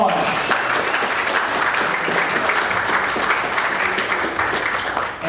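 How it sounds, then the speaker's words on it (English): Libertarian Party convention crowd applauds, a steady, loud wash of many hands clapping with faint cheering, sustained throughout before tapering slightly at the end. "Give yourselves a round of applause"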